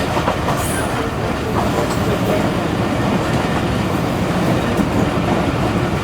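The Pak Business Express runs through a railway station with a steady loud rumble and rattling of rail cars, faint wheel clatter and squeal mixed in, continuous throughout.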